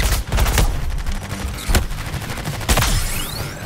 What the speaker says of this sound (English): Let the bullets fly, people. Clear this place out.